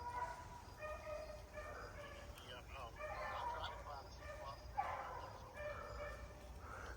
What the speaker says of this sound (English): Listen to them dogs coming.